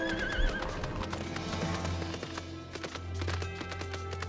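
Rhythmic hoofbeats of a horse galloping in Final Fantasy XIV, with a horse whinny and snorts over steady game background music.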